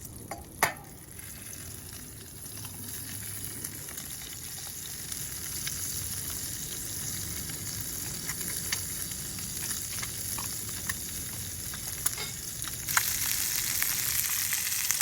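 An egg frying outdoors in a pan over a penny stove, a steady close crackling sizzle that continues without a break, with a few small clicks and taps on top.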